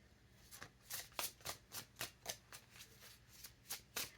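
A deck of oracle cards is shuffled by hand in a quick, even run of soft riffling taps, about a dozen crisp flutters close by in a quiet room.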